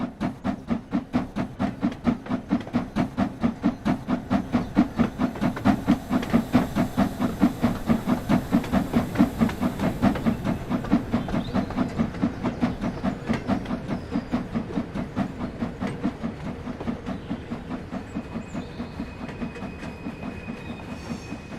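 Steam locomotive in Train Sim World 3 on the Peak Forest Railway, chuffing in a steady loud rhythmic exhaust beat with hiss and clanking over the full stretch, easing slightly toward the end.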